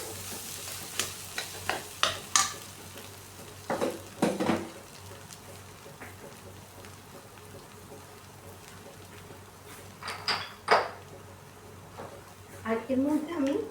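Spiced potatoes being sautéed and stirred in a pan for a Bengali egg devil, with intermittent scraping stirs and a soft sizzle, a speaking voice heard between the bursts.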